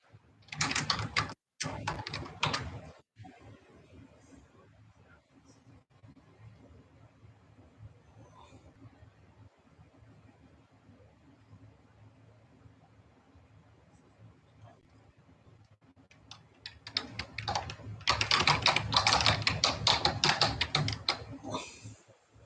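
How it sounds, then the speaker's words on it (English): Typing on a computer keyboard during a late-night gaming stream, with bursts of rapid clicking near the start and louder, denser clattering toward the end, a quieter stretch of faint taps and room noise in between. "I'm just typing something here."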